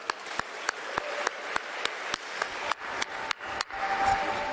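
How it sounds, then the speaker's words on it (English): Sparse, scattered hand claps from a small audience at the 2020 ICPC World Finals opening ceremony, individual sharp claps spaced irregularly over a quiet room, moderately close. "All right, let's give them a round of applause."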